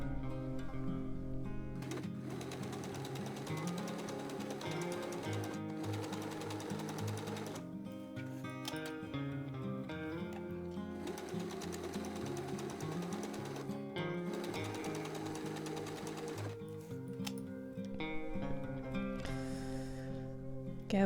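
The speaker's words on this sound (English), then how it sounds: "Just sewing 2 rows of gathering stitches, again very long stitches with a distance of a couple of millimeters together." A sewing machine runs steadily while sewing two rows of long gathering stitches on a drawstring dress, its motor humming and rattling close by with only brief slowdowns between runs.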